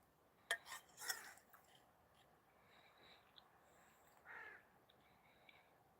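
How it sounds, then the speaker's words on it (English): Crows caw a few times in the background outdoors, sharp calls clustered early and again midway, faint and distant over a quiet ambient bed, with a couple of light clinks and no voices. "There's a lot of crows in the background,"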